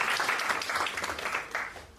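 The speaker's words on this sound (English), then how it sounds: "we can clap for him." An audience at an inaugural live event claps for a guest, a brief spell of fairly faint, scattered applause with irregular hand strikes.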